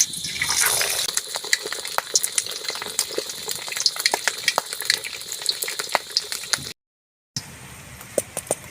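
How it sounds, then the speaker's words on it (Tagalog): Chunks of pork belly for lechon kawali fry in a wok of very hot oil, giving a steady, close, crackling sizzle with scattered pops. The sound cuts out briefly near the end, then returns slightly quieter. "Napakainit na mantika po yan. Ipiprito na po natin yan."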